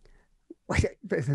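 A short, sharp sneeze bursts out close by, followed quickly by a second explosive breathy burst, with a faint murmur beforehand.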